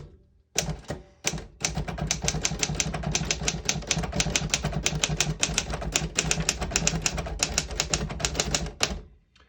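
A 1956 Royal HHE desktop typewriter set to the red half of a black-and-red ribbon types a sentence: a dense, steady run of sharp mechanical key strikes, loud and close, with no voices over it.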